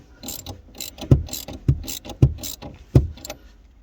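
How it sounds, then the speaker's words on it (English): A socket ratchet works on the rear shock absorber bolt of a BMW E92, close rapid clicking strokes in a repeated back-and-forth rhythm, with heavier knocks at regular intervals. "So I'm going to start it off with the socket first, and then counter hold it with a 6mm."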